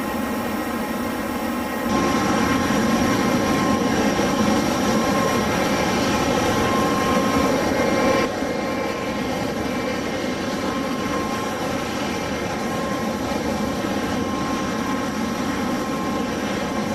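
A Hawk T1 jet's engine in a flight simulator, heard as a continuous loud whine and roar during a VFR flight from RAF Valley, steady with a slight shift in tone partway, no speech.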